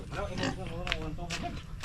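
A pig at a rice-paddy farm gives short grunts and oinks close by, mixed with people talking over it.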